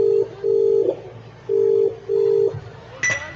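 An outgoing call on a mobile phone: a run of evenly spaced electronic tones, each about half a second with short gaps, then a brief higher beep near the end. The tones are close and clear, with no talking.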